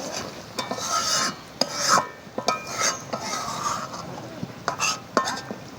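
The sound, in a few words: stirring tamarind crab curry in a pot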